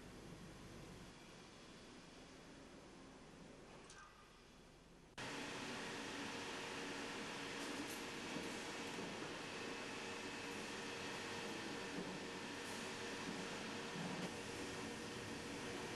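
A conveyor in a fish canning factory carries frozen mackerel, giving a steady, loud mechanical roar and hum that thickens after a few seconds and runs on without a break.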